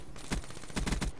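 Rapid bursts of automatic gunfire from a gun in Call of Duty Black Ops 3 Gun Game, two quick clusters of shots, fairly quiet and with no talk.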